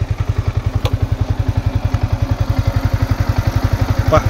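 Yamaha R15 V4 motorcycle engine running with a rapid, even thumping pulse, loud and close, steady throughout with a faint click near the start.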